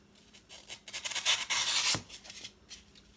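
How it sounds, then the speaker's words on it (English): A serrated knife saws and rasps through floral foam while trimming off the excess for a flower arrangement in a cup, a soft close scraping that swells to a louder stretch midway, then fades, with no voice. "I'm going to start to trim off the excess, just using a serrated knife."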